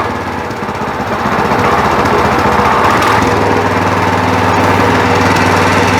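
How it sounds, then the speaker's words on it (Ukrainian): A Weima WM1100C-6 walk-behind tractor with a differential has its engine running steadily and loud nearby; the rough, throbbing drone rises slightly in pitch as it is revved up. "Ми завели мотоблок. Зараз я йому трохи додам обертів."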